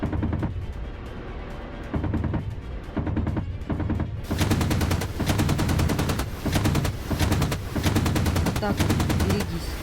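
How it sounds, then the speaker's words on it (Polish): Heavy gunfire strikes a Ka-50 attack helicopter in the DCS World combat flight simulator, dense rapid bursts of shots rattling continuously over a low rotor and engine drone, louder and sharper in the second half. "ostro do nas strzelają widzę"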